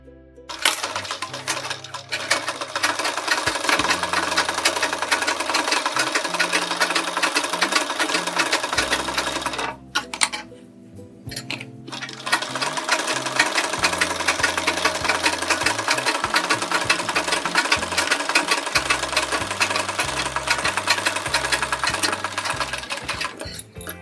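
A sewing machine runs in long steady bursts while stitching around a pinned sleeve design on cloth, with a brief pause near the middle before the rapid mechanical chatter resumes, loud and close.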